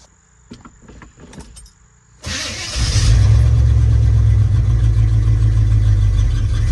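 After a new fuel pump is fitted, a 1986 Chevy C10 squarebody's small block engine starts. A few faint clicks come first, then the starter cranks briefly and the engine catches into a loud, steady, close idle that runs to the end.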